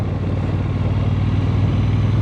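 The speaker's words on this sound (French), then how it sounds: "le bruit de ce moteur, incroyable" Loud, steady engine roar from a Brixton Cromwell 1200 motorcycle, held high near the red zone, with a dense continuous rumble and no talk.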